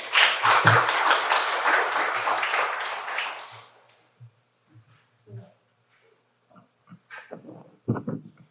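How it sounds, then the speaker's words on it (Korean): Dense clapping from an academic symposium audience for a few seconds, then fading out into scattered, faint taps and a few isolated claps. "박수로 맞아주시기 바랍니다"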